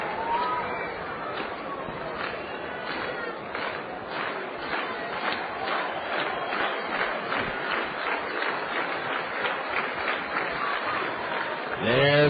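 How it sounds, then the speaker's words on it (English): Crowd at a Cedar Rapids Kernels minor league baseball game against the Burlington Bees on July 4, a sustained roar of cheering and clapping from a large, distant crowd, with some rhythmic clapping and broadcast-style background murmur. "The crowd comes alive"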